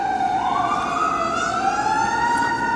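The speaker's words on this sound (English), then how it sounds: "Apparently I got some big thing in the background with a bunch of sirens" Emergency vehicle sirens pass outside, a loud, steady wailing tone that sweeps slowly up and down and fills the whole stretch, heard from indoors with no speech.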